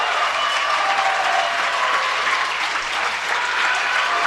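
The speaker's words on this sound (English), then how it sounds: "Crowd's going wild" Loud, sustained crowd cheering and applause fill the hall at the Pokémon Trading Card Game 2012 World Championship finals, a steady roar with no talk over it.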